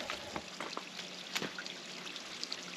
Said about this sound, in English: Maybe this is the waterfall.